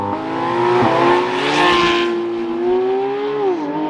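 A Bugatti Veyron launches and accelerates hard, its engine roaring loudly up through a sharp rising pitch with a brief upshift dip, close and powerful, alone without speech.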